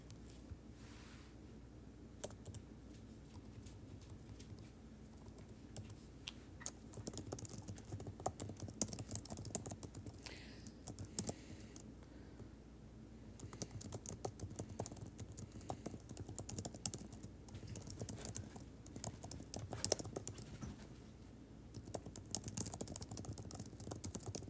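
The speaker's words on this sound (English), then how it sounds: "Let's type it out." Typing on a computer keyboard goes on steadily and fairly quietly, with irregular bursts of close, soft key clicks and short pauses. No one speaks.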